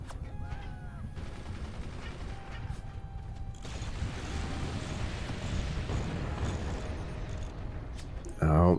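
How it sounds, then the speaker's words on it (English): Heavy gunfire and mortar explosions in a video game battle, a dense continuous barrage of booms and rapid shots with a loud burst near the end, voices talking faintly underneath. "those mortars are digging"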